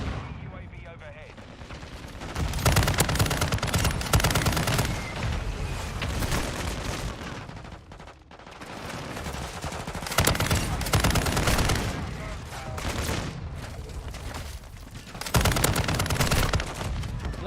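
Heavy gunfire fills a shooter video game battle: dense, loud volleys and rattling bursts close by, surging in waves with brief lulls, under game voices and a mortar-strike callout.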